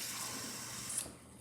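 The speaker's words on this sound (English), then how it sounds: "You can't see me putting the water in, but you can hear the sound of the water." Water pours steadily into a cup for oatmeal, a soft hissing stream up close that tapers off near the end, with no talk.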